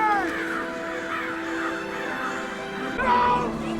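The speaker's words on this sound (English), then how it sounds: "Look at the goddamn bird!" A crow caws repeatedly in a 2005 War of the Worlds film scene, harsh calls recurring over a steady bed of background sound, with a louder burst near the end.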